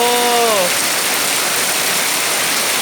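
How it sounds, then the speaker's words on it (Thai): Heavy rain in Pattani, Thailand, roars in a dense, constant hiss from start to finish, with a brief voice at the very beginning. "เสียงฝนโอ้"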